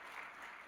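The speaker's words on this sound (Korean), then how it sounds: "박수로 한번 격려하겠습니다" Church congregation clapping to encourage newly appointed members during a worship service, a brief, even patter of applause at low level with no speech.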